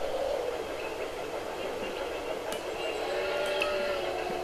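An Atlantic 4-4-2 steam locomotive runs in the Railroad Tycoon 3 video game, giving a steady rolling train rumble with a faint whistle-like tone and a couple of brief clanks.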